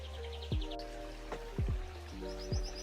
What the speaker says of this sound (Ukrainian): співи пташок чути